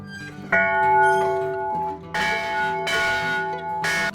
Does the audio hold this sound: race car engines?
no